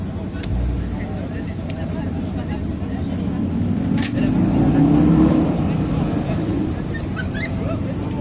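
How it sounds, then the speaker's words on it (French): A Toyota GT86 engine at an outdoor car meet gives a steady low rumble that swells to a louder, rising rev near the middle and then eases off, with voices in the background. "Une GT86."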